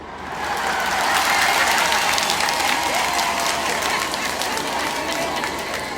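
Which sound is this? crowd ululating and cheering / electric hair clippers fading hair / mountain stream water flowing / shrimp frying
crowd ululating and cheering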